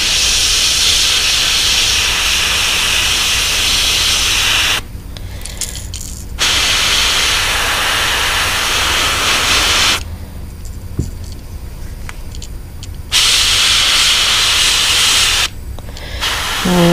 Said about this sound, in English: You'll notice that I have the tip off of the airbrush at this point.